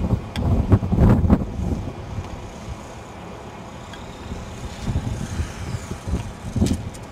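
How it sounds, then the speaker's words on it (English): Gusty wind buffets a microphone outdoors during helicopter autorotation training, low rumbling bursts that swell and fade in uneven gusts, loudest near the start and end, with no talk. "Got a little bit of wind there."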